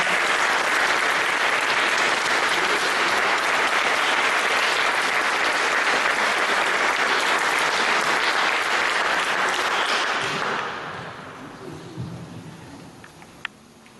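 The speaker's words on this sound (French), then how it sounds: "On peut les applaudir" Loud sustained applause from a parish gathering's audience for the presenters, a thick continuous wash of clapping that fades out over the last few seconds, leaving a few stray sounds.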